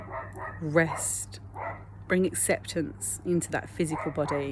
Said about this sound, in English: I do apologise about the doggies barking